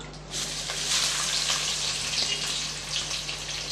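Three large sliced onions frying for chicken dum biryani, a steady close sizzle with a soft hiss throughout and no voices.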